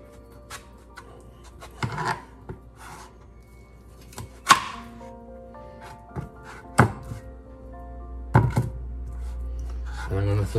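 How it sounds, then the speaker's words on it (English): Fruit is sliced in half with a knife on a cutting board for fruit salad, giving several separate knife thunks against the board, spaced irregularly, with a person talking in between. "I'm gonna slice it in half."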